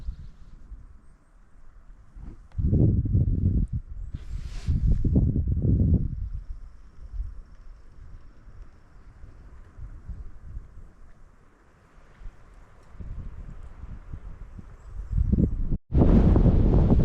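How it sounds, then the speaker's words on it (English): Strong wind gusts buffet an outdoor microphone by a lake in the Boundary Waters wilderness, surging in loud low rumbling bursts and easing between them, with a sharp blast near the end. "The wind has been crazy today."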